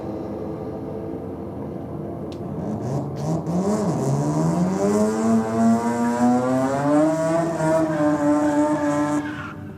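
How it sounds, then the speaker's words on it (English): A Mazda RX-7 doing a burnout at a drag race night, with the engine revving up in rising, strained tones over shrieking tire squeal, loud and close before it cuts off at the end. "Strong burnout there from the little RX-7"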